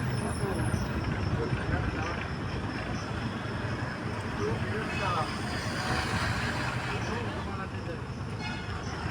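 Steady roar of a bus travelling fast on an open road toward Digha, engine and tyre noise filling the whole stretch evenly with no breaks.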